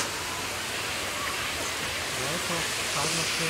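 Steady broadband rush of a waterfall at a scenic stop near Aparecida, continuous and fairly loud throughout, with faint voices of visitors mixed underneath.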